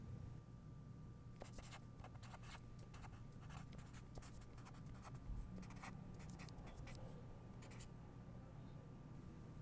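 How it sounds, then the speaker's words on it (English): A pen scratches across a blank sheet of paper in close, quiet strokes, bursts of writing separated by short pauses against a soft hum. "Let's write this down on a blank sheet of paper."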